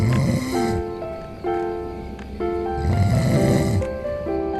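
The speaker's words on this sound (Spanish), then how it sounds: "Su padre estaba roncando." A man snoring in deep sleep, slow repeated rasping inhales with droning tonal buzzes between them, close and fairly loud, with no talk.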